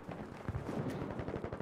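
Rapid bursts of gunfire in the video game Battlefield V, quick repeated shots in an irregular rhythm at moderate distance, with no talk over them.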